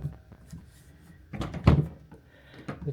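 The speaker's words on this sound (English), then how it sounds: "The tension ball latches, not working very good." Closet door with tension ball latches in a house interior, a few soft thumps and a louder closing knock near the middle, with quiet room noise around it.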